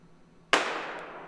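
A starting gun fires once, sharp and loud, at an indoor college track meet before a women's sprint medley race, followed by a long echoing decay in a reverberant hall.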